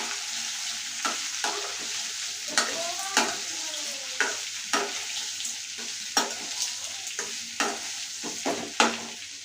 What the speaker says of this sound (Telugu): బెండకాయలను యాడ్ చేసేసేయాలి బాగా మిక్స్ చేసేసేయాలండి